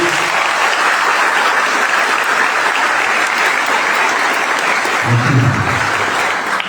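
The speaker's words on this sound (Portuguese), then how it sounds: "uma salva de palmas para ele" A church congregation at a priest's canonical installation in a parish claps for his parents, steady loud applause throughout, with a brief voice rising under it near the end.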